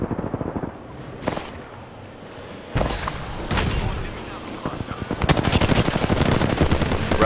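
Bursts of automatic gunfire in a competitive ranked shooter video game, sharp rapid shots in clusters that grow denser and louder toward the end, with people talking over them.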